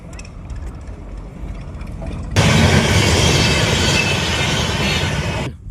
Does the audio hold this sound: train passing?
yes